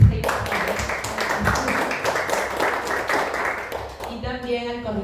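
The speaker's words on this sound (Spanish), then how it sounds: "Un aplauso para ella, que está ahí." Audience applause at a Alianza Francesa cultural event, a few seconds of scattered clapping from a modest crowd at moderate level, fading out as a voice begins speaking near the end.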